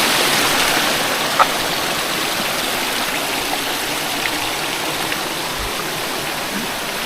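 Waterfall at a bathing and washing spot in Palawan, a steady broadband rush of falling water filling the whole clip, loud and close with no voices.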